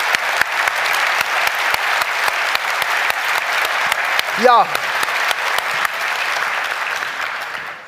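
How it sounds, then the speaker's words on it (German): An audience applauds steadily at a Bavarian joke championship, cheering jurors Toni and Wolfgang. The dense clapping runs throughout at fairly close range, a speaking voice cuts in briefly and a short whistle rises near the middle. "der Applaus, der ist jetzt unter anderem auch für dich"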